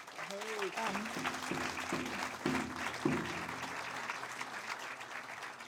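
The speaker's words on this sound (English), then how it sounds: "I want to give them a big round of applause again" A crowd applauds steadily, dense clapping filling the space while a voice carries over it near the start.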